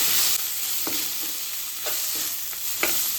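Chopped tomatoes and coriander sizzle in hot oil with fried potatoes for masala dal khichdi, a steady close frying hiss broken by a few soft stirring scrapes of a spoon in the pan.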